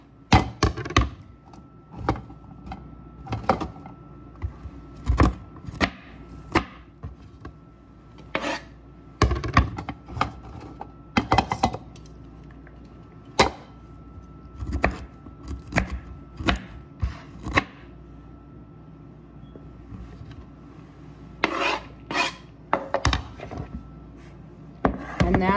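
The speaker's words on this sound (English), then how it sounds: "So you could chop your broccoli up a little bit or your cauliflower up a little bit more" Broccoli and cauliflower get a rough cut with a knife on a board, giving dense runs of crisp close chopping thuds and scraping rubs, sometimes fast, sometimes with short pauses, and no talk.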